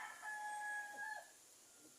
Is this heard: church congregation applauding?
no